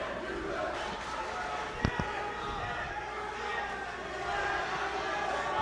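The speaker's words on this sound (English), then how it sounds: "Nice vocal crowd tonight." A vocal crowd at a high school boys' basketball game keeps up a steady roar of cheering and chatter, with sharp thuds of the ball bouncing partway through and a commentator talking over it.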